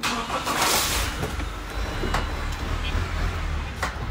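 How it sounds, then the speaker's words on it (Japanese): A clean diesel Toyota HiAce van engine cranks and catches, then settles into a steady, fairly quiet idle with a low rumble throughout. "じゃあ実際エンジンもかけてみましょう。"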